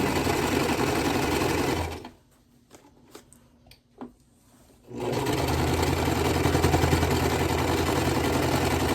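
A small sewing machine quilting a large quilt whirs loudly and steadily, stops for about three seconds while soft handling rustles and taps fill the gap, then starts again at full speed.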